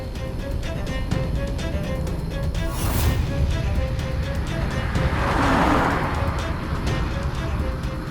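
A car being driven at night with a steady engine and road hum, a brief louder whoosh midway and a swelling noise later, close and continuous with no speech.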